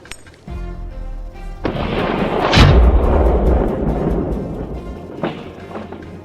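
A rifle fires during a wild boar hunt, one sharp, heavy boom that rolls into a long rumbling tail, with scattered thuds and other sounds around it.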